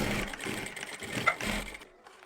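A sewing machine runs a steady stitching burst along the buckram edge of a suit collar being attached, close and fairly loud, with a brief pause and a slight catch before it stops near the end.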